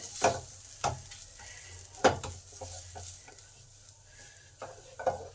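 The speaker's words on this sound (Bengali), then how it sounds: "নেড়ে পুরটাকে ভাজা ভাজা ভাজা করে নেব।" Spiced potato filling being stirred and fried in a pan for stuffed begun fritters, with soft scraping strokes of a utensil at irregular intervals over a low, steady sizzle, close and fairly quiet.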